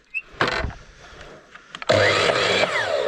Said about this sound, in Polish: piła chodzi